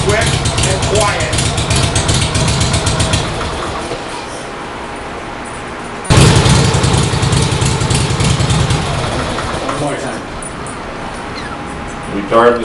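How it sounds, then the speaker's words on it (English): A Harley Panhead motorcycle with a push-button right-side electric starter makes a quick warm start and settles into a loud, lumpy idle close by. The engine revs again partway through, and someone talks over it. "Okay, warm start demonstration. Retard the spark. Ignition on. Quick and quiet."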